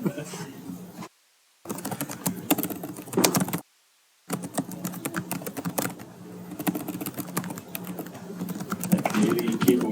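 Rapid clicking from someone typing on a computer keyboard in a classroom, close and steady, broken by two brief silent gaps and growing busier toward the end.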